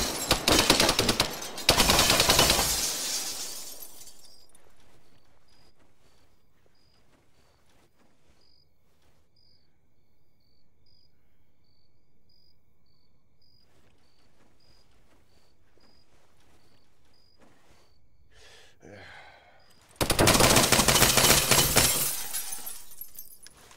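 Bursts of automatic gunfire in the Arma 3 Apex video game crackle loudly at the start and again near the end, separated by a long quiet stretch with faint ticking and scattered small clicks.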